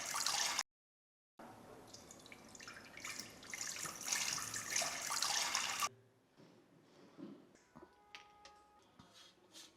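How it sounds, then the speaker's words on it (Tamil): Water is poured into a pot for boiling eggs, a fairly quiet rushing stream that stops abruptly partway through, leaving faint drips and small clinks. "இப்போ முட்டையை வேக வைக்கிறதுக்கு தேவையான அளவுக்கு தண்ணி ஊற்றிக்கலாம்."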